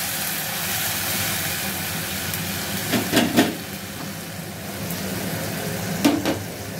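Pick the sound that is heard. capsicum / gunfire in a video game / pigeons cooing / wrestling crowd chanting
capsicum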